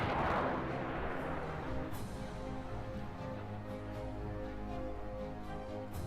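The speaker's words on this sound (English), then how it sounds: "I'm just going to shoot the missiles as they come." Missiles rapid-fired one after another in a missile strike simulation game, a continuous loud roaring rumble with sharper launch bursts near the start, around two seconds and again near the end.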